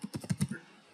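Keys tapped on a computer keyboard while code is entered in a .NET project, a quick close burst of about six clicks, then quiet.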